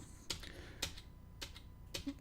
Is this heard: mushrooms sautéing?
no